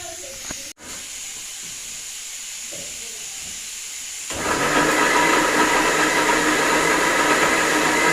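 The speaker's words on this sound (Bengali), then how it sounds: "প্রেশার কুকারে ডালের সিটি বেশি পড়ে যাচ্ছে" A pressure cooker cooking dal in a home kitchen lets out a loud, steady whistling hiss of escaping steam that starts partway through after a quieter stretch and carries on to the end.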